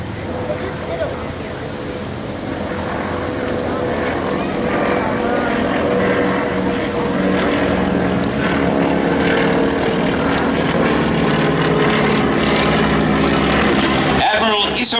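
Grumman Wildcat fighter planes fly past at a V-E Day 70th anniversary event, a steady loud propeller engine drone swelling and holding over outdoor crowd noise and faint voices.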